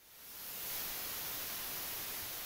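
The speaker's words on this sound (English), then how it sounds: "White noise is a random signal consisting of equal amounts of all frequencies in the human hearing range." Steady broadband white noise hisses evenly and continuously, fading in over the first half second and then holding at a constant level.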